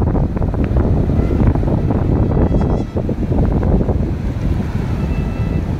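Ocean waves roll steadily onto Hawksbay beach, a continuous loud roar of surf mixed with heavy wind buffeting the microphone, with a brief dip midway.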